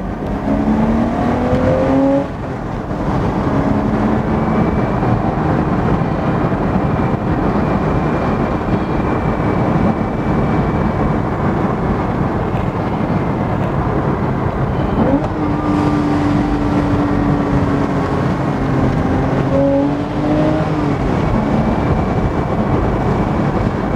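A Porsche Boxster drives a twisty country road, its engine a steady loud hum with rising and falling revs and gear-change dips throughout, heard from inside with no talk.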